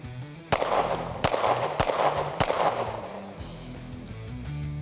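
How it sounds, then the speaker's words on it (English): Four loud, spaced shots from a Walther PDP pistol, each a sharp crack with a ringing tail, then a quieter stretch of range ambience. "Let's just put a couple shots"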